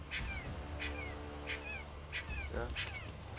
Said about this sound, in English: This, it's a puppy, and I can't see it, but it's crying. It appears to be in distress.